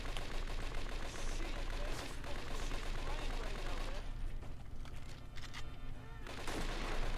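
Rapid gunfire in the crime game Scarface: The World Is Yours, a dense continuous rattle of shots at moderate level running through the whole stretch.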